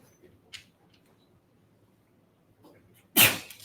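A single loud, abrupt sneeze bursts out near the end, over the low murmur of a lecture hall, preceded by a few faint rustles and small noises.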